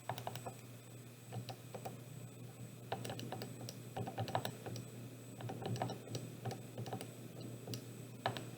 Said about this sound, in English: I'm going to start with typing in all of the data.